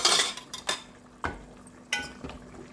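A metal fork presses and scrapes peeled tomato in a pan for kachnar keema: a few distinct clinks and scrapes spaced apart, close and clear with no talk.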